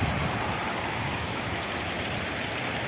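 Rainwater rushing across a washed-out road after heavy rain, a steady, fairly loud broadband flow that continues unbroken and close throughout, with no voices.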